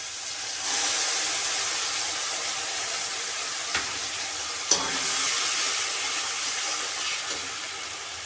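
Masala paste frying with tomato in a pan for Bengali tel begun, a steady close sizzle and hiss with a couple of brief stirring clinks, no voices.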